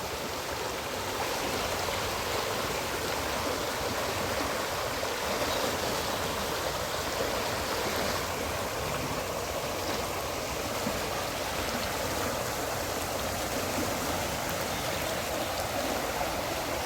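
The flooded Ganga river rushes past a ghat in Haridwar, a steady, dense roar of churning water that continues unbroken and fairly close throughout.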